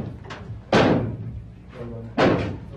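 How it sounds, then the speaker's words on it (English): Heavy slams strike in a show, two loud impacts standing out with a fainter one before them, each a sharp hit trailing into a short rumble. "there's three loud slam sounds"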